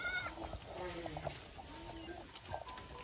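Goats bleat on a goat farm in the evening while being fed grass, with a few soft, short calls amid faint farmyard background and some speech.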